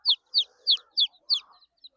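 Aseel chickens and a rooster on a farm give a quick series of about six sharp, high clucks in an even rhythm, close and clear, fading toward the end with no talking.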